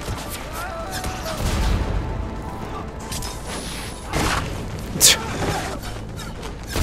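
Cannons fire in Mass Effect 3's Omega DLC combat, heavy booms and crashing volleys thudding over the battle while someone talks throughout.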